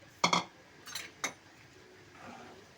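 Sago pudding being stirred in a pot over a medium gas flame, heard as a few sharp metallic spoon clinks against the pot in quick succession, then quieter scraping, fairly close and with no talking.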